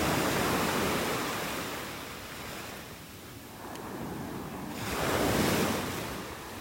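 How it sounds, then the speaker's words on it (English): Ocean surf washes steadily onto a beach in North Naples, Florida, where old tree stumps sit in the water, with a continuous broadband roar that dips mid-way and swells again, mixed with some wind buffeting the microphone. "This is not one of my favorite beaches to go swimming at."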